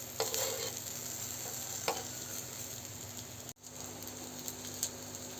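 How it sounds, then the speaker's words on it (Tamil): Vegetarian fish fry frying in oil in a pan, a soft continuous sizzle with occasional stirring scrapes and clicks, fairly quiet and close, no voices. "ஒரு வாணலில் எண்ணெயை ஊற்றிட்டு அதில் நீங்கள் இந்த அளவுக்கு அப்படியே லைட்டாக பெரட்டணும்"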